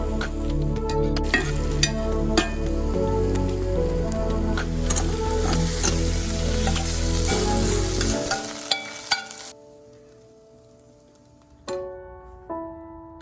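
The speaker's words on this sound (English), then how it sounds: "turn off the heat and add Asian sesame oil. Toss it again to season every floret." Broccoli florets sizzle loudly in a hot pan as they're tossed with Asian sesame oil, a dense steady frying hiss with stirring clatter, then the heat cuts off and the sizzle drops away, leaving a few light clinks and scrapes.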